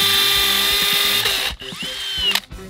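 KEYANG DM18BL-W cordless drill boring into concrete packed with stones, a loud close whine for about a second and a half, then a short pause and a second burst.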